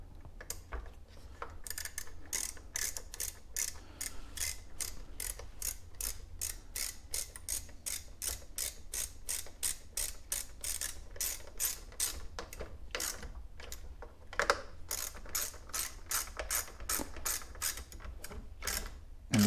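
Repeated ratcheting clicks from a hand tool tightening screws on a Husqvarna 128CD chainsaw carburetor, a steady close rhythm of sharp ticks running throughout with brief pauses, with no talking.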